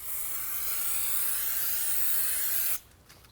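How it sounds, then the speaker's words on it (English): A steady, loud aerosol spray of brake parts cleaner hisses for nearly three seconds during a 2011-15 Kia Sorento front brake job, then cuts off abruptly into quiet. "And spray this side down as well."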